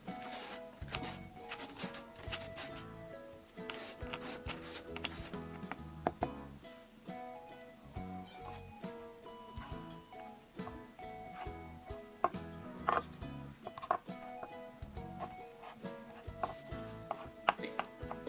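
A knife dicing shredded carrot on a cutting board, rapid rhythmic close chops tapping steadily and quietly, alone with no talk.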